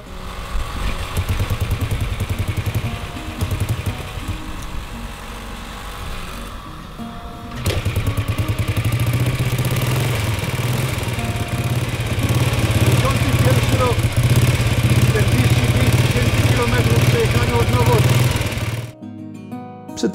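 A motorcycle engine idles in a garage with a steady, loud, low hum that runs for about nineteen seconds and cuts off near the end, while people talk over it.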